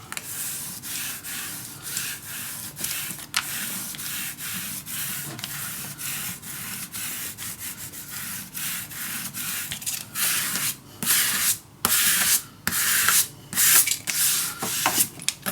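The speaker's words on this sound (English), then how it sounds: "I'm going to turn this around and burnish it down." A bone folder burnishes paper on a mini album, making a close, dry rubbing swish in repeated strokes that turn choppier and faster toward the end, with no voices.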